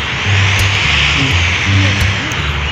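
Airplane arriving at an airport, a steady broad engine roar filling the scene at close range, with faint voices in the background.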